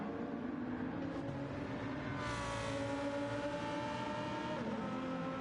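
Race car engines roar continuously in Gran Turismo racing at the Red Bull Ring, a Lamborghini among the field, with a steady loud drone and rising whine as cars pass close.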